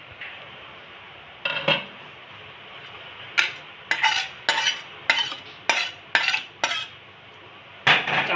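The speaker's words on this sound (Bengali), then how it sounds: "চামচ দিয়ে মিশিয়ে নেব।" A spoon stirs egg bhurji into dal in a metal pot, giving a series of sharp clinks and scrapes in irregular bursts over a quiet background.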